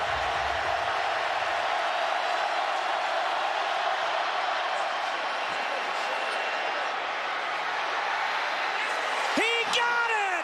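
A stadium crowd at a 2014 college football game between Georgia Tech and Georgia reacts as Harrison Butker attempts a 53-yard field goal to force overtime. The roar is dense and unbroken throughout, with a whistle-like tone rising near the end.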